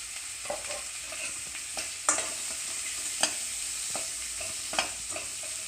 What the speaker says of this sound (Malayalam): ഇത് ഒന്ന് വരളാൻ വേണ്ടി ഒന്ന് ഇളക്കി കൊടുത്തുകൊണ്ട് ഇരിക്കുക